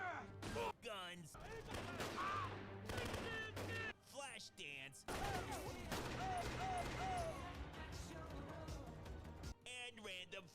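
Bursts of automatic gunfire come from an action movie, rapid and repeated, with fast talking and a music-like tonal layer running over much of it.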